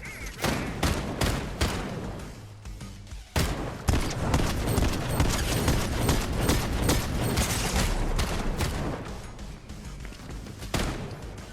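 Rapid, dense gunfire from the Fortnite video game, bursts of shots and thuds packed closely together with brief pauses, loud and continuous over a busy game soundscape.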